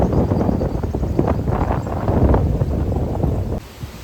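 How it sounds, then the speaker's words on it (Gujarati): Strong wind hits the microphone outdoors, making a loud, continuous rumbling buffet for several seconds before dropping off sharply near the end. "ફૂલ જોરદાર પવન છે"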